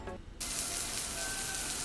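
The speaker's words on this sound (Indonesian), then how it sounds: "Suara grill atau suara menggoreng" Salmon frying in olive oil: after a short quiet moment a loud, steady hiss and crackle of sizzling starts abruptly and carries on close up, with no voices.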